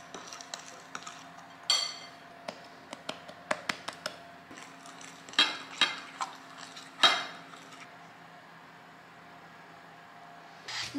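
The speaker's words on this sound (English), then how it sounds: "Continue using the fork to mix as you slowly add in your dry ingredients to the wet ingredients." A fork stirring dry ingredients into wet cookie dough in a bowl, with a run of light clinks and taps against the bowl, irregular and close, some sharper knocks between softer scraping, with no talking.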